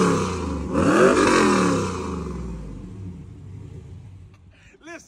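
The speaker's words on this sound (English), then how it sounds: "416-inch cubic inch LS stroker motor" A car powered by a 416 cubic inch LS stroker engine rumbles loudly nearby, with a deep rising then falling engine sweep that fades toward the end as a short voice-like sound breaks in.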